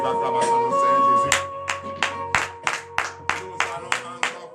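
A church congregation claps and acclaims during a morning prayer service in Benin, giving steady rhythmic hand claps, about two per second, over a sustained murmur of voices and a held instrumental drone.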